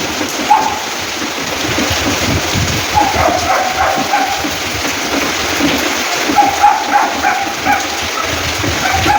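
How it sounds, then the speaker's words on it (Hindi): Heavy rain pours steadily outdoors on a hill with plants, a dense continuous hiss of falling water with light wind, loud and close, while a faint dog barks intermittently in the background. "बारिश तेज है।"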